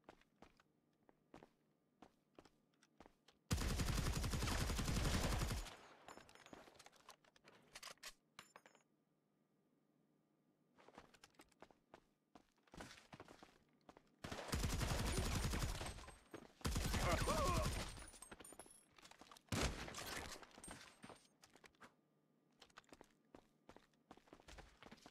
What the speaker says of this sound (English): Start shooting, motherfucker.